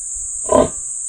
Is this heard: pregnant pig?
yes